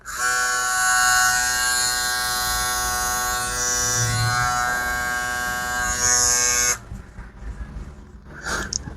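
A steady electric buzz from a Kemei KM 2375 hair clipper runs continuously for about seven seconds, then cuts off abruptly, leaving faint handling noise.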